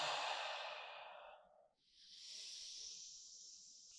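Deep breathing during a guided gratitude exercise: one long, loud exhale hisses out, fades, and is followed by a slow, airy inhale through the mouth, close and alone.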